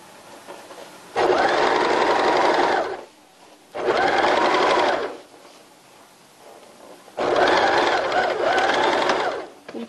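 A sewing machine stitches fabric for homemade underwear in three loud, close bursts of rapid motor whirring, separated by short quiet pauses.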